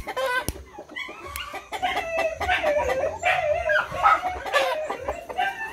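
Imported chickens cluck in a steady stream of calls while a rooster crows through the middle, nearby and fairly loud, with no talking.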